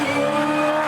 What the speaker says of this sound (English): He's got that throttle in hard.